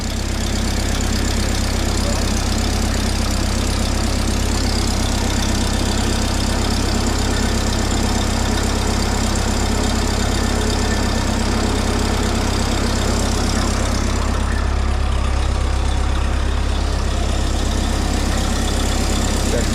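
A mini forklift engine idles steadily and loudly throughout, a continuous low rumble with a slight dip near the end, while a voice is faintly heard over it.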